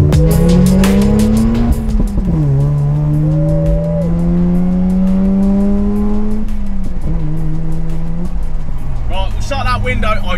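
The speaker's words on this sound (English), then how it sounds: "I do love rotary noises in the morning." A Mazda RX8 with its rotary engine is driven on the road, the loud, high buzzing engine note climbing steadily through the revs and dropping at each gear change, heard close from inside the car.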